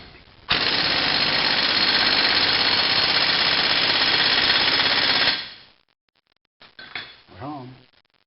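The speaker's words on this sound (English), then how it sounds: "1/2-inch air gun is all you need" A half-inch pneumatic air impact gun set on high hammers a front axle nut on a Rockwell FDS 75 axle rebuild, a loud, harsh, continuous rattle lasting about five seconds before cutting off, followed by brief faint clatter.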